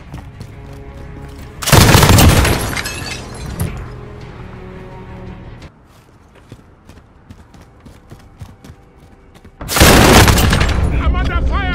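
Two bursts of loud, close gunfire from a PKM machine gun in a first-person shooter free-for-all match, each lasting about two seconds, with quieter game noise and scattered shots between them.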